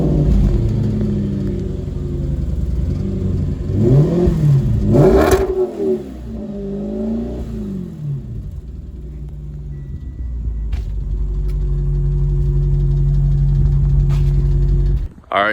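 An Audi RS5 V8 idles with a deep steady rumble, then blips through a few sharp revs that rise and fall before settling back into a loud, close idle.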